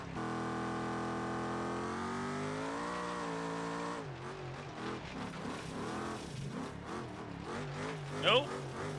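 A truck engine in the BeamNG driving game revs steadily while drifting, a sustained droning tone that rises, then turns choppier with tire noise as someone talks over it.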